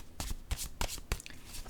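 Cards being drawn and handled from a deck during a card reading: quick papery flicks and slaps in a loose rhythm, close and fairly crisp, with no talking.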